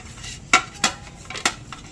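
A metal baking plate for pizza is handled and greased with oil, giving a few sharp clanks and scrapes close by, about four distinct knocks over two seconds.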